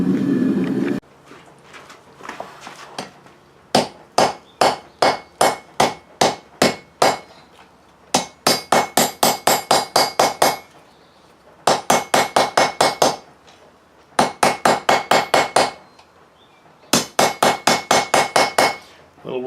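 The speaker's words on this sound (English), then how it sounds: "Back to the anvil." A hammer pounds a forge-welded steel billet on an anvil beside a single-burner propane forge, landing loud, ringing blows in rapid bursts of about eight to twelve strikes, separated by brief pauses.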